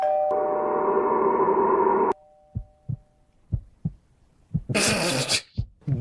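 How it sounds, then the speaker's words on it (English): A doorbell in a horror video game rings with a sustained electronic chime that stops abruptly, followed by soft, scattered thumps and a brief burst of harsh noise. "Somebody just ring your doorbell."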